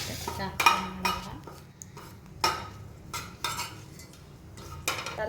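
Mushroom biryani masala stirred in a frying pan, with a spoon scraping and clinking against the metal at irregular intervals over a faint low sizzle, close by.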